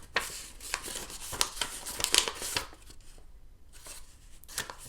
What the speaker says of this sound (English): We can fold paper